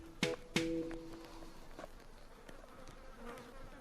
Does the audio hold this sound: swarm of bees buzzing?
yes